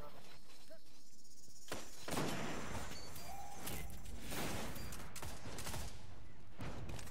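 Gunfire in Destiny's Trials of Osiris mode on the Lighthouse map, with repeated shots and bursts across several seconds, moderately loud and mixed with game ambience and some chatter.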